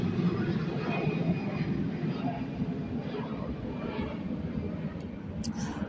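A propeller airplane or jet passes overhead outdoors, a steady broadband engine roar that holds loud and even for several seconds, with no talk over it.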